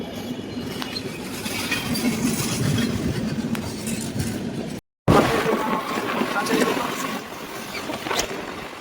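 A train passes a railway check gate near Jaleswar with a loud, continuous rumble and clatter close by, cut off briefly around the middle before resuming.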